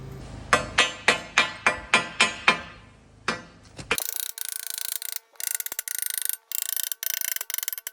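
A hammer chips slag off a fresh weld in a workshop, about eight sharp metallic strikes in quick succession, close and loud, followed by a few lighter taps, then a harsh high hiss that comes and goes in bursts.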